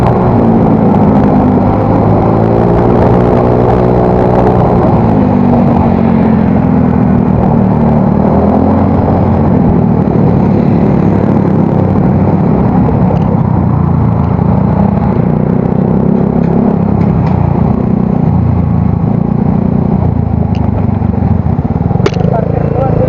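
A loud motorcycle exhaust (knalpot) idling and revving close by, a rough, throbbing rumble with rising rev sweeps early on, under occasional talking.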